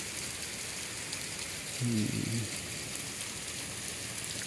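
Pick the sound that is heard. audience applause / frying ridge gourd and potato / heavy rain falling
heavy rain falling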